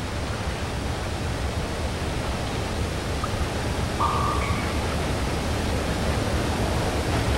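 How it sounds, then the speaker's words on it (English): Waterfall in the video game Limbo, a continuous even hiss of rushing water that holds steady and fairly loud throughout, with no talking. "There's a waterfall. I assume from the sound of it."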